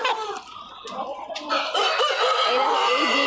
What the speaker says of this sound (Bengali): আর এই মুরগি, কিউট কিউট কিউট কিউট মুরগি